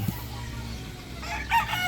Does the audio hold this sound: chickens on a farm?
yes